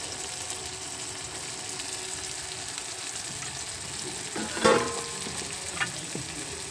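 Tomatoes and mushrooms sizzle steadily in a pan, giving a continuous close hiss, while a spoon stirs and scrapes through them, with one louder clatter midway and a smaller knock shortly after.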